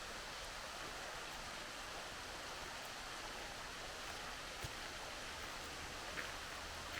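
Stream at Hocking Hills with a constant flow of water, a steady broadband rushing and gurgle that stays even and fairly soft throughout, with no voices.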